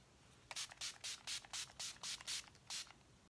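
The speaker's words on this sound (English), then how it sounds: "I'm going to set my face using the Urban Decay All Nighter Spray" A rapid series of about nine short, hissing bursts of Urban Decay All Nighter setting spray misting onto a face in a steady rhythm, close and fairly loud against a quiet background.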